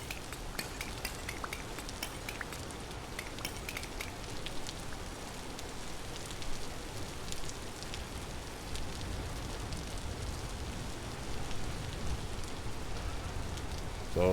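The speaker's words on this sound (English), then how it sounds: "So I'm a little concerned about all the rain." Rain falls in a video game, a faint, steady crackling patter like drops on a hard surface, continuous and unbroken with no voices.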